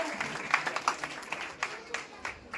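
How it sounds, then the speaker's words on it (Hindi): An audience at a political rally claps to welcome a speaker, scattered and uneven hand claps popping out in a loose, moderately loud ripple rather than a full ovation. "जोरदार तालियों से उनका स्वागत होना चाहिए"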